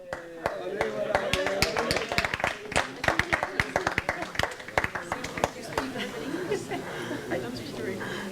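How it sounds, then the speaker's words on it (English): Audience applause at a dental and orthodontic management seminar: dense, sustained clapping from a crowd, loud and continuous for several seconds before thinning into scattered claps, with some chuckles mixed in. "Round of applause."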